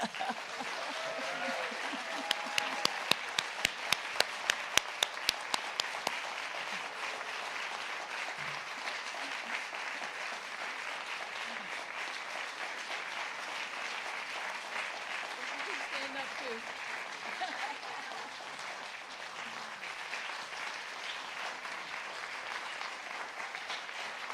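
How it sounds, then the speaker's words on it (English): Audience applause at an ORACLE awards ceremony and concert, a sustained steady wash of clapping across a large room that runs continuously for over twenty seconds with a few sharper claps near the start. "let's give these great people a great applause"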